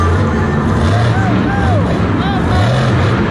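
A monster truck at a Monster Jam show in Houston, Texas, roars loudly as it balances on its front two wheels, its engine note rising and falling over a constant arena crowd din.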